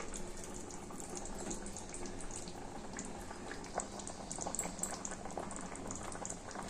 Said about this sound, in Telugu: పట్టుకునేది మిక్సీ పట్టుకునేదంతా దీనిలో గుమ్మరిస్తామండి